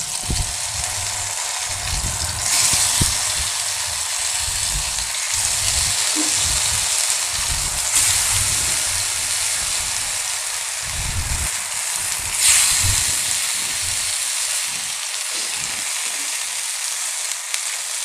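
Steady loud sizzling of brinjal (eggplant) slices frying in hot oil, a continuous crackling hiss with occasional stirring bumps, no talking.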